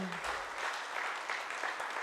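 A church congregation applauds during a sermon, a faint, steady patter of many hands clapping at a distance, low and even across the moment.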